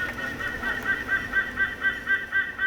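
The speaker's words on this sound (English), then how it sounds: "what you're hearing right now is the call of an adult white-bellied sea eagle" An adult white-bellied sea eagle gives a repeated series of honking, goose-like calls in steady rhythm, moderately loud over faint background hiss.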